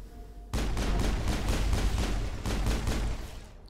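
Rapid bursts of Spectre-class weapon fire from the game Mass Effect, loud and continuous volleys of repeated shots for several seconds after a brief quiet start.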